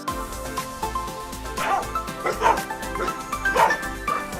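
A dog barks outdoors, several yipping barks in an uneven run over a steady low background rumble, moderately loud and somewhat distant.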